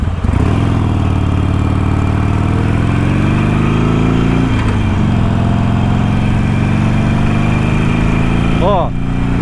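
A Harley-Davidson Iron 883 motorcycle pulls away from a traffic light, its loud, close engine drone rising steadily in pitch through the gears with a brief dip at a shift, heard alone without talk.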